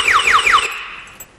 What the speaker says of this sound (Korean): 이 제품이 이제 45도 이상 기울거나 누가 가져가면 경보음이 울리게 되어 있습니다